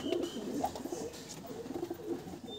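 Pigeons from a market collection cooing close by, with soft, repeated throaty coos overlapping in a continuous murmur and no talking.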